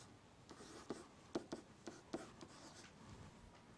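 Pen strokes scratching across paper while working a trigonometry problem, a handful of short scratchy bursts with brief pauses between, close and quiet with no talking.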